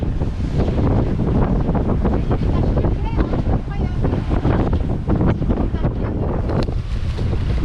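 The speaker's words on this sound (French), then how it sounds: "Il y a un petit grain là qui passe par là, qui nous fait accélérer un petit peu." Strong, steady wind roars across the microphone aboard a sailing boat as a passing squall sweeps over at sea near Barbuda, with wave and water noise mixed in, loud and constant throughout.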